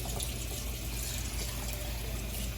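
Water runs steadily into a cast iron skillet being rinsed, a continuous broadband splashing and trickling from a tap, close and even throughout with no voices.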